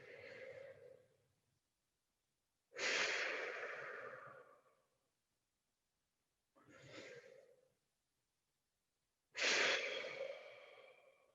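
Deep, slow breaths during a spinal mobility exercise for Muay Thai kicks: four long, close breathy inhales and exhales alternating with silent pauses, with no talk.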